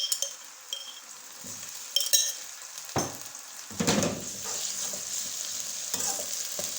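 Garlic paste sizzling with onion and ginger in a pan, a steady fry hiss broken by scraping stirs and light clinks of a spoon against the metal, close and with no talking.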